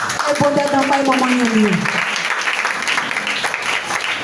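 A church congregation breaks into applause and acclaim for Jesus, a brief voice rising at first before a sustained wash of clapping and cheering.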